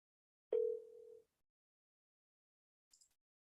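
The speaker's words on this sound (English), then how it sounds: "Still dialing." A telephone line gives one short, steady mid-pitched tone lasting under a second, followed by silence and a faint high blip.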